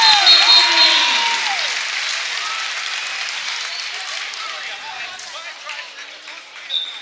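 A high school basketball crowd at Emporia versus Washburn Rural bursts into loud applause and cheers after a three-pointer, the roar peaking at the start and slowly fading while a commentator talks over it.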